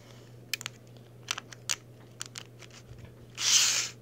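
HO-scale Athearn Genesis Santa Fe SD45-2 model locomotives being set onto the track, heard as scattered light plastic clicks and taps, then a brief louder rustling burst near the end, all fairly faint and with no speech.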